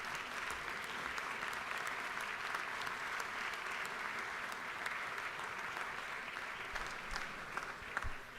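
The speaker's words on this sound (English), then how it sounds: "would you please rise and give these people, these very professional people, a round of applause" Legislators in a state house chamber rise and give medical responders sustained applause, an even wash of many hands clapping heard from a distance and unbroken throughout.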